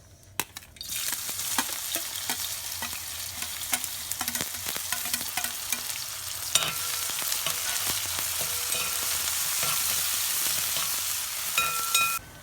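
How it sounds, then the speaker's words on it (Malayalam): Chopped onion, green chilli and garlic sizzle steadily in hot oil, with scattered crackles and the scrape of stirring throughout; no voices, close and moderately loud. "ഇനി ഇതിനകത്തേക്ക് നമ്മൾ അരിഞ്ഞ് വെച്ചിരിക്കുന്ന സവാളയും പച്ചമുളകും വെളുത്തുള്ളിയും കൂടി ഇട്ട് കൊടുക്കുക."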